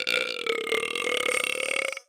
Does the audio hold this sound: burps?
yes